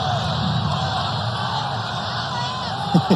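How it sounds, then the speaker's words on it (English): A basketball arena crowd shouts and yells during an NC State home game against Austin Peay, a sustained loud roar of many voices begging for a foul in the final seconds. "And the crowd begging for a foul in the final 7 seconds."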